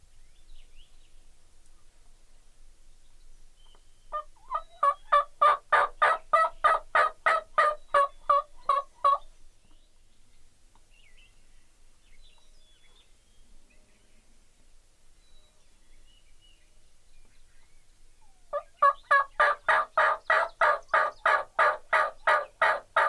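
Wild turkeys near a hunting blind in Iowa gobble in two long rapid rattling bursts separated by quiet, each gobble loud and fairly close with a pulsing, rhythmic cadence.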